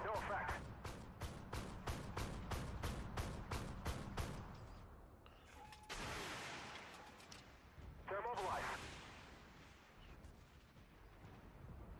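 Missile and gunfire bursts from the tank game Armored Warfare: a rapid run of about a dozen sharp, evenly spaced shots, then two heavier launching blasts with rushing tails, loud and close, mixed with game noise and some talk.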